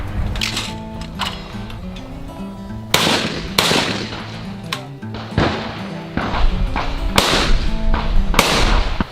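Beretta shotguns fire at an outdoor shotgun range, a run of loud, sharp blasts in irregular succession over constant background music, with no talking.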